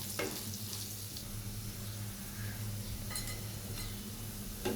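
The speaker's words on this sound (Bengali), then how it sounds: "আলুগুলো আমি লাল লাল করে ভেজে নেব।" A soft, continuous sizzle of potatoes browning in oil in a pan, with a few light scraping clinks along the way and no voices.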